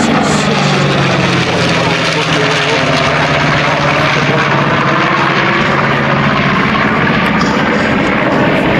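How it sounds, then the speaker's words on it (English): A B-25 Mitchell bomber flying an airshow demonstration at Beaufort, South Carolina, its piston engines and propellers producing a loud, steady, rumbling roar that holds for the whole stretch. "While Army Air Force B-25 Mitchell bombers served extensively in every theater of the war, including the Doolittle raid"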